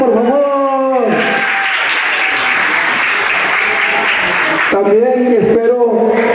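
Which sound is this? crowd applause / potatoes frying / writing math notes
crowd applause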